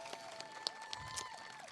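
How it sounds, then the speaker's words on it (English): Applause from an audience at the Telling Tales 2022 awards, greeting a Community Advocate Award recipient: a brief, quiet, fairly distant spatter of clapping with some faint crowd murmur. "Can we give her a round of applause right away?"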